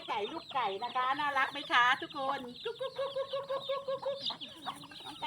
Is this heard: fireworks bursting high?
no